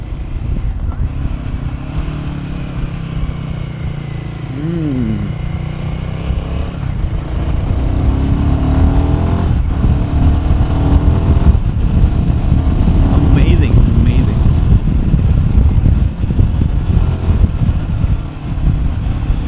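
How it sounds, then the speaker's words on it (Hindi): Royal Enfield Himalayan 450 motorcycle engine running and revving on a ride, a steady loud drone that swells through the middle, with wind noise and someone talking over it. "ओ नाइस इंजन भाई, क्या रेव करता है इंजन।"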